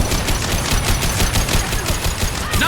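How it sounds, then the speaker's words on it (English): Rapid automatic gunfire rattles nonstop in Mass Effect 2, a loud, evenly spaced burst of shots close up that lasts the whole stretch with no speech over it. "Nice shooting!"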